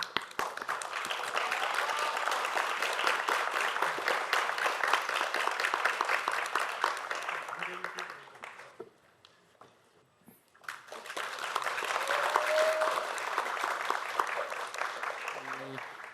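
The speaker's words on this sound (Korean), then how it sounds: "박수로 맞이해주시고" Sustained audience applause greeting a speaker at a panel discussion forum, steady and dense for several seconds. It dips to near quiet briefly, then swells again into a second long round of clapping.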